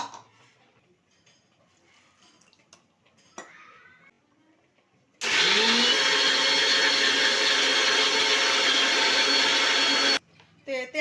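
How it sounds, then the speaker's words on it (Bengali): A kitchen mixer grinder grinds peeled, cut coconut pieces for coconut milk, starting abruptly as a loud, steady whirring roar that runs about five seconds and then cuts off, with quiet kitchen noises before it. "যে নারকেলটা আমি ছাড়িয়ে এভাবে কেটে নিচ্ছি কেটে এটা আমি মিক্সিতে"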